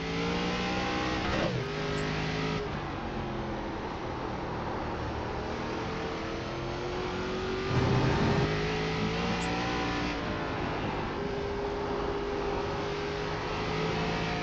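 Several ARCA stock cars race at Lime Rock in iRacing, their engines droning steadily with rising and falling pitch as they accelerate and downshift. A louder car sweeps past near the eight-second mark, and the engine roar continues without a break.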